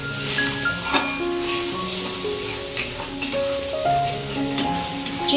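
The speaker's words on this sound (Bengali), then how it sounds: "এবার এটা ভালো করে তেলে নাড়িয়ে নেব" Prawns coated in mustard paste sizzle and crackle steadily in hot mustard oil while being stirred, a close, continuous frying hiss with occasional scraping of the spoon, alongside faint background tones.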